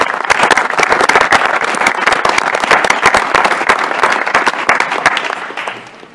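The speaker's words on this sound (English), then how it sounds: "Let's give our chancellors a round of applause." Loud, dense applause from an audience at a university system board of regents meeting, many hands clapping steadily for several seconds before fading out.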